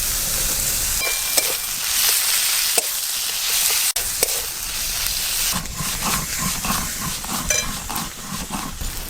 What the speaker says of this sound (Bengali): পেঁয়াজ হালকা করে ভাজা ভাজা হয়ে গেছে, আদা রসুন বাটা দিয়ে দেব